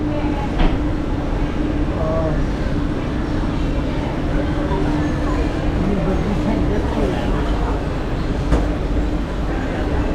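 Train in Bangkok rumbling steadily with a constant low hum and rattling, heard from inside or close by, with people talking over it throughout.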